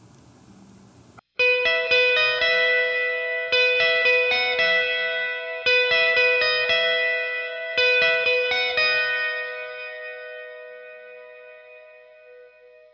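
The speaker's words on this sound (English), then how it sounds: "And this is with reverb engaged." An electric guitar lead line rings out alone through a heavy reverb effect, with bright plucked phrases blurring into a wide, washy sound and a long tail fading away at the end.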